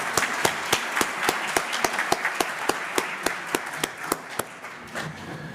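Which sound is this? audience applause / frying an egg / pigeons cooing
audience applause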